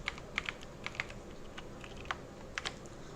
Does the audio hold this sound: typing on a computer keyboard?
yes